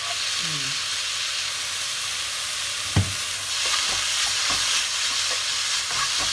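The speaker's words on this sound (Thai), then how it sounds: "คั่วไปให้ได้ที่นะคะ" Mixed vegetables for a Thai curry stir-frying in a pan, with a steady close sizzle and occasional knocks and scrapes of a utensil, including one sharp clack near the middle.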